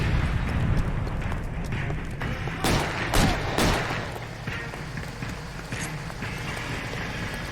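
Gunshots in L.A. Noire, a few sharp, loud reports clustered near the middle over a busy game backdrop of rumble and ambient noise.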